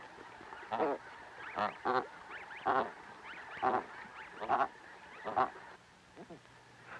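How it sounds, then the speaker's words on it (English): Geese on Arctic tundra, young birds huddled with their parents, give a series of loud honks and cackling calls in irregular bursts, close by against a quiet windy background. "the young geese seek shelter and warmth from the bodies of their parents"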